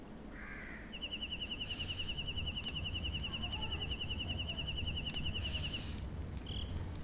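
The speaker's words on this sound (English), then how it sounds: "I just heard a crow out there" A crow caws outdoors, a couple of harsh calls, while a high, steady insect-like chirring trills on against a constant low background hum.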